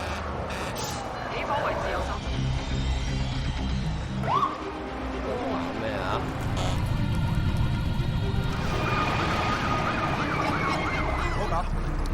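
Fire engine sirens wail from a convoy of four fire trucks rushing to a blaze at a recycling area, a steady rising and falling tone running through the whole stretch under busy traffic noise and talk.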